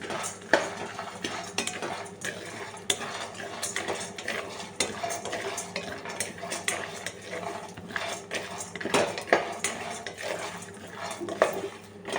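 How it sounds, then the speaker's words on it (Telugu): Sesame seeds being roasted in a pan for protein laddu, with repeated scraping and clinking of a metal spoon against the pan over a faint sizzle, in an irregular stirring rhythm that stays steady and close. "లాస్ట్లో నువ్వులు వేసుకొని వేయించుకోండి"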